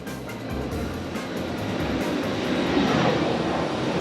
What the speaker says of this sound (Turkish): Evet 747 şu anda pistten teker kesti arkadaşlar.